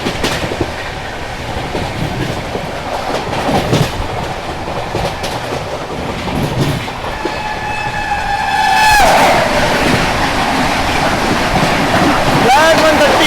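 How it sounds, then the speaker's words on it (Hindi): A Mumbai Rajdhani Express runs through Bayana Junction, filling the scene with a loud, steady rumble of wheels and clattering coaches. A rising horn-like tone comes in near the end, and a voice talks briefly over the passing train. "सामने से आ गई मुंबई राजधानी एक्सप्रेस"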